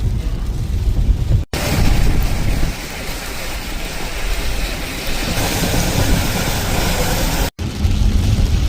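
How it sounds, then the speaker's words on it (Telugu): Heavy rain drums on a moving car during a drive from Los Angeles to Phoenix, a loud, dense roar with road rumble beneath that drops out briefly twice. "వర్షం అయితే చాలానే ఎక్కువైంది, ఇప్పుడు చాలా పడుతుంది"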